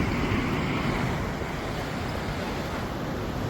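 Ocean waves washing ashore on Boracay beach, a steady broadband roar of slightly rough surf mixed with wind, continuous and fairly close with no voices.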